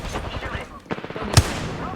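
Gunfire in a first-person shooter video game: a short burst of shots with a sharper single crack near the end, heard under excited team voice chat.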